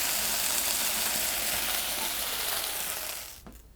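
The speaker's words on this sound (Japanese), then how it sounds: "ほぐしながら炒めていきます。" Beef sizzles loudly and steadily in a frying pan while it is stir-fried and broken apart, the hiss fading off abruptly at the end.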